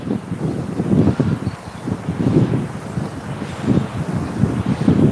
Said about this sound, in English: Pretty breezy out today.